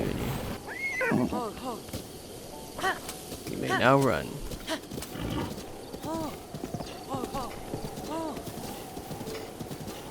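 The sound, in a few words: horse neighing and hooves in Breath of the Wild video game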